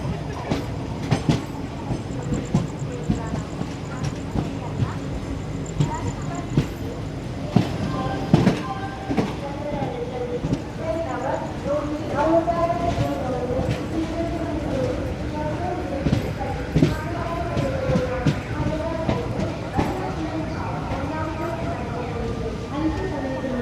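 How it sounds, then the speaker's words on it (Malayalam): The Malabar Express pulls in to platform 2 at Ernakulam Town station with rumbling wheels, rhythmic clickety-clack over the rail joints and squealing brakes. People talk over the train noise throughout. "അപ്പുറത്തെ സൈഡിൽ നിന്ന് മലബാർ എക്സ്പ്രസ് ഓൾറെഡി കയറി വരുന്നുണ്ട്."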